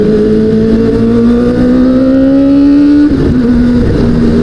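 Modified Kawasaki ZX25R four-cylinder 250 cc motorcycle with carbon parts, engine held at a loud, steady high-rev whine that climbs gradually, then a brief dip as it shifts and the pitch resettles, very close and continuous.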